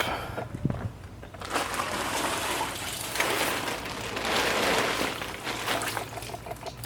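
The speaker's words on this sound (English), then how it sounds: "this rain" Dense rain pattering on a boat, loud and close, swelling and easing in a steady wash of drops.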